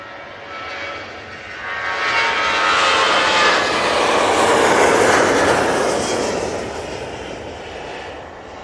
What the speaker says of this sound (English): Off to Genoa we go with this Ryanair 737-800.